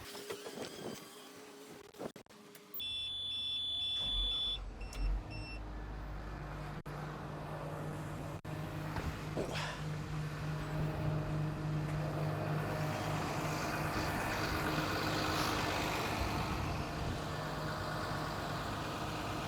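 Engine starting after a brief crank, with a whirring starter burst, then settling into a steady, even idle that runs on at moderate level with a low continuous drone and occasional faint clicks.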